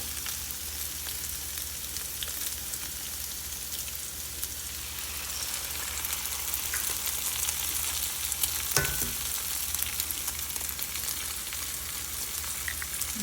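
Eggs sizzle in a hot pan, a steady, close crackle and hiss that carries on evenly throughout with no talking.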